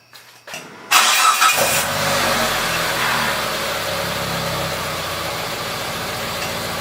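A car fitted with a swapped Mitsubishi 4G64 engine cranks briefly, catches and fires, then settles into a steady, loud idle that continues to the end with no talk.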